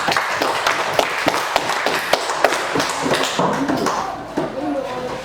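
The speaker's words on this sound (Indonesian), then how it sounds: "Beri tepuk tangan dulu untuk kelompok 4" Classroom applause for a student group in a teaching practice lesson: a burst of irregular sharp claps from a small group, close and fairly loud, mixed with voices.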